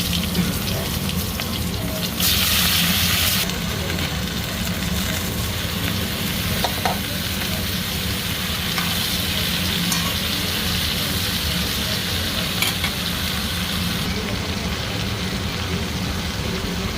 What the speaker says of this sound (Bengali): মাছগুলো ভালো করে ভেজে নেব। তেলে জিরে দিয়ে দেবো।